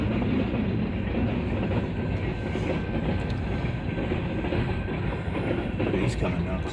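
A freight train carrying tankers, wood and steel rolls past, its steel wheels on the rails making a loud, continuous rumble with rhythmic clacking close by, while people talk faintly over it.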